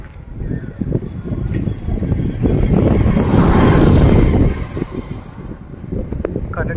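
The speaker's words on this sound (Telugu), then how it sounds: "ఈ గాలి సౌండ్గా అసలు నేను మాట్లాడేది కూడా వినిపించడం లేదు." Strong wind gusts buffet a microphone out among open crop fields, a loud, continuous low roar that builds toward the middle and eases off near the end.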